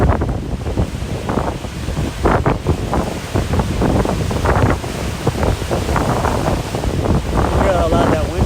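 Strong wind in the White Mountains of New Hampshire roars and buffets loudly against the microphone in continuous gusts, with no speech over it.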